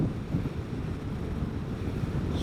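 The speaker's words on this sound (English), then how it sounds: "going 65 on the highway into a 8 or 9 mile an hour wind" Steady, heavy wind roar buffets the microphone while a Vespa GTS 300 Super Sport scooter rides at 65 mph on a country highway into a light headwind, a continuous low rumble with no voices.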